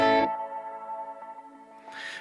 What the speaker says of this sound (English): So I've got a slicer and a phaser